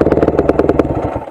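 A GasGas EC250F motorcycle engine running at a steady idle with a rapid, even pulsing close by, loud and alone before it fades out briefly at the end.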